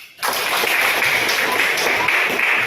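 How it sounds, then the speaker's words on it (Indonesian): A classroom audience claps together in a burst of applause that starts suddenly and stays dense and steady throughout. "Ya, tepuk tangan dulu."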